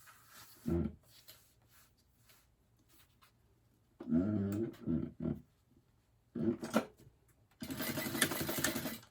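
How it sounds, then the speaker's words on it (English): A sewing machine stitches the short edges of a folded fabric purse at a half-inch seam allowance, running in several short bursts separated by quiet pauses, with the last burst longer and steadier. "stitch it with a 1/2 inch seam allowance on just the short edges"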